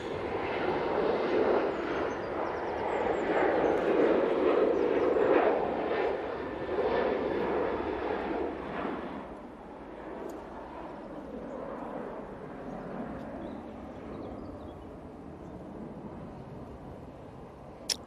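An arriving airliner from Belfast lands at Manchester Airport, a broad jet roar that is loud at first, then fades into a lower, steady rumble as it passes and recedes.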